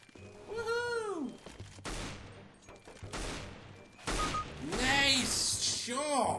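Gunshots in CS:GO ring out in several sharp bursts of rapid fire across the scene, loud and close, interleaved with someone talking and exclaiming.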